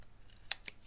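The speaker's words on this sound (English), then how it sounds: "Let me just grab my scissors." Craft scissors picked up and snipped, two crisp close cuts in quick succession against a quiet room.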